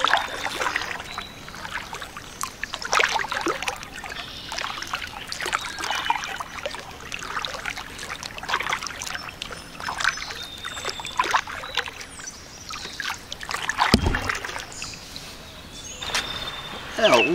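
Kayak paddling on a river along the Union Canal, with soft watery splashes and trickles that come and go near the boat, along with a few faint bird calls.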